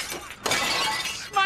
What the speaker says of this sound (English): Crack lots of pots, break crates of plates